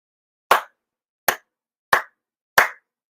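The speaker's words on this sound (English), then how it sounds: "four sincere claps" Four sharp, separate hand claps ring out at a Shinto monthly ceremony, spaced at a slow, deliberate, roughly even pace with silence between each, clear and close.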